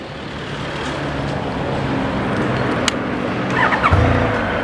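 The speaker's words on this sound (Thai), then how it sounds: "เดี๋ยวเราาฟังเสียงท่อกันว่าจะเงียบและ เนียนแค่ไหน" A stock-exhaust Honda VFR1200F motorcycle from 2017 idles quietly and smoothly, a steady low hum with a faint brief rise near the end.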